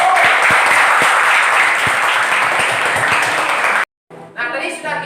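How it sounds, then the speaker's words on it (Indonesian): Applause from a classroom full of high school students, steady and fairly loud, cuts off abruptly near the end, followed by a brief voice. "Boleh tepuk tangan untuk teman-teman kita."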